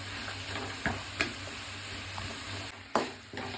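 Capsicum, tomato, onion and tamarind sautéing in a pan: a soft, quiet sizzle broken by a few sharp scrapes and knocks of a stirring spoon, with no voices.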